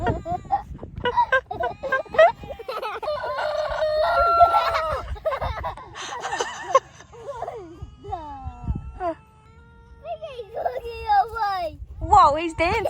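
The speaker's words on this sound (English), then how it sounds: "Let's go see the rooster." A rooster in the Australian outback around Coober Pedy crows several times, loud and close, its drawn-out calls broken by clucks, while people talk and exclaim around it.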